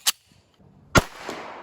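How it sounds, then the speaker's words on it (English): Two sharp, loud reports from an unsuppressed 9mm pistol firing 115 grain supersonic rounds, heard at the shooter's ear: one brief crack, then a second shot about a second later that rings off into a long, fading tail. "This is a 115 grain 9mm load, and it's definitely not subsonic"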